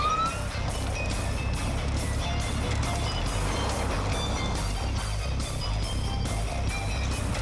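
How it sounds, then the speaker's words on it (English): A car being driven off-road between houses during a police chase gives a steady, rumbling roar of engine and road noise with rattling, bumping jolts throughout, continuous and fairly loud with no talk. "The car bounces onto a different street."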